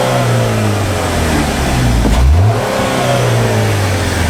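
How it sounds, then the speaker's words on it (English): The engine of a 2012 GMC Terrain idles loudly and then rises in a quick throttle blip before settling back, heard up close with no talk. "So let's give them a couple of hits with the throttle."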